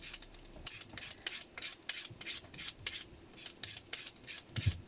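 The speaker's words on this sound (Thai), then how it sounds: "มีแต่น้ำตาลขูดเอาเลย" Sugar being scraped by hand while cooking in a camper van, heard as a steady run of about a dozen rhythmic, close rasping strokes with no talking.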